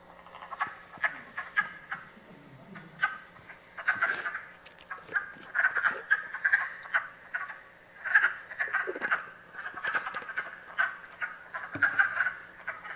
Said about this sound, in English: I'm going to play you the wood frogs, because I bet you'll realize that you've heard them